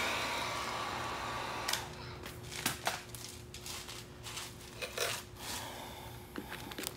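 A heat gun blows a constant soft hiss while warming the edges of tint film on a 2015+ Dodge Charger tail light, with light crackles and handling clicks over the airflow.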